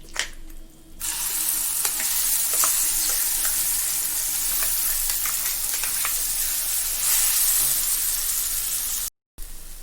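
Ground spicy tomato and red chilli chutney frying in a hot pan, a loud steady sizzle and hiss with occasional sputtering pops and stirring scrapes, close by and uninterrupted by speech.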